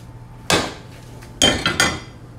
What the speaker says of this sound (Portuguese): Uma assadeira.